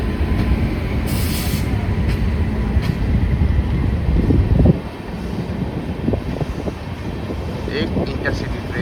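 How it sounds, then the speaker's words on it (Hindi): An Amrit Bharat Express locomotive waits outside Barabanki station with a low, continuous rumble under heavy wind buffeting. The rumble eases and thins partway through, and faint background voices can be heard. "बाराबंकी स्टेशन में एंट्री पाने के लिए यहाँ पे खड़ी है अमृत भारत लोकोमोटिव"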